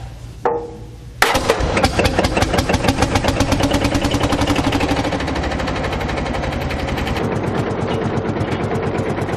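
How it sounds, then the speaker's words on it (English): An old tractor engine is power-started: a brief whirr and a couple of coughs, then the engine catches and settles into a loud, steady, rapid chugging idle that continues to the end. "Old tractors come in an astonishing variety of shapes, sizes, and methods of starting their temperamental engines. Right, and let's see if we have a power start."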